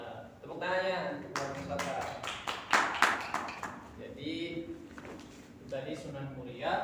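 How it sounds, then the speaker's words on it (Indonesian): A small class claps for a student during a microteaching lesson in a ninth-grade Islamic history class, brief quick clapping mixed in with a teacher talking. "Nah, tepuk tangannya buat Mustafa."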